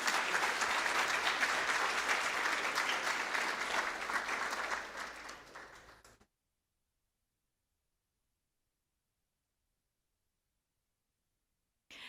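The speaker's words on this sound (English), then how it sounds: "Let's give her a round of applause." Clapping from a board meeting audience runs steadily for about five seconds, then fades and stops, followed by silence.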